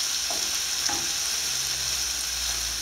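Ingredients fry in a pan while being stirred, producing a steady, dense sizzle that stays close and even throughout, with faint stirring touches underneath.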